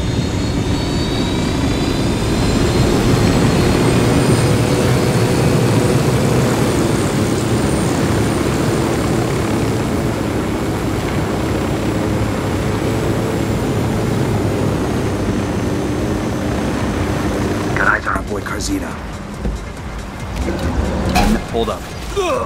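An aircraft flies in the open-world shooter game Ghost Recon Wildlands: a loud, sustained engine roar and whine that holds steady, then breaks into rougher noise near the end, with voices talking over it.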